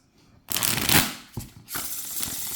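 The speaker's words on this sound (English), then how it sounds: "This deck, just like all the Artisan decks, it's just a pleasure to shuffle." A linen-finish Artisan playing card deck with rounded edges being shuffled up close: a sharp riffle burst, a quick snap, then a second softer riffle cascade.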